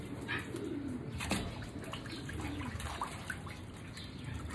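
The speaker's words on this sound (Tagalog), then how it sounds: "ito na sila, kalapate na" Pigeons hatched from eggs brought from Japan coo softly in a low, rolling murmur, several calls overlapping at close range over a steady background hum and faint trickling water.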